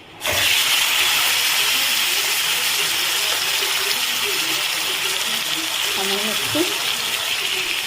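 Shrimp fry in hot oil with a little turmeric, giving a steady, loud sizzling hiss that continues unbroken for several seconds.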